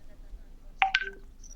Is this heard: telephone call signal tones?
yes